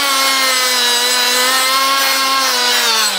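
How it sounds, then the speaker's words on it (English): A power tool bit grinds steadily across aluminum parts to strip off burrs, a continuous high-pitched whine with a slowly shifting tone, loud and close with no talking. "This also isn't the exact bit I would use with aluminum, but we're just going quick, just to get all those quick burrs out."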